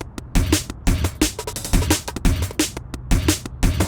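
Drum and bass groove built on a pitched, resampled break-beat snare, with punchy kicks and crisp snare hits repeating in a fast, steady rhythm, loud and upfront with no voices.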